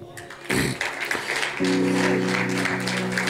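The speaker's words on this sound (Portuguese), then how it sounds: "Aplauda ele aí." Church congregation clapping during a worship service, a burst of applause under a sustained musical tone and a voice.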